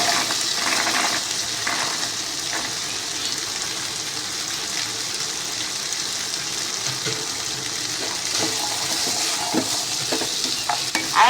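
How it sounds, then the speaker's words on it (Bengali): Chickpeas and a fried masala are stirred in a pan, giving a steady sizzle with scraping spoon strokes throughout, close and fairly loud, with no voices. "এখন মশলাটাকে আমি ভালো করে কষিয়ে নিচ্ছি"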